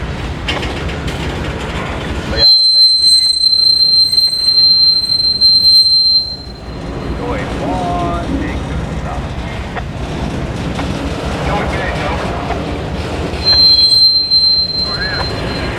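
A passing train with loud, high-pitched wheel squeal that starts abruptly, holds for a few seconds, fades into rumbling rail noise and returns briefly near the end, with faint voices at times.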